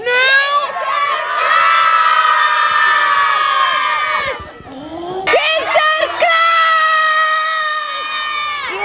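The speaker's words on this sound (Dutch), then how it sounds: "Helpt het als wij u met z'n allen gaan roepen?" Crowd of children shouting together at a Sinterklaas arrival parade in Oosterwolde, a loud sustained chorus of calls that breaks off briefly, then swells again.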